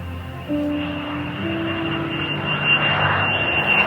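Airplane engine sound effect in a Tamil Christian youth skit: a steady, moderate jet-like whine and rumble that swells slightly toward the end, with no speech.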